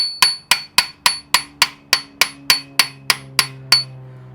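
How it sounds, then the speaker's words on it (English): A socket is hammered to drive a gear and shaft back into a bearing on a Ferrari 456 front timing cover. There are thirteen sharp, evenly spaced metallic blows, close and loud, each ringing briefly before the next. "when I drive this gear and shaft back into the bearing, they're going to line up right where we want them"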